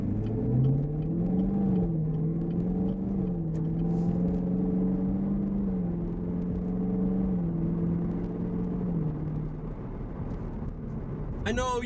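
A 2019 Chevrolet Camaro SS pulls away from a stop sign, its engine droning steadily and rising and falling slightly in pitch under a constant cabin rumble, heard from inside the car with no talking.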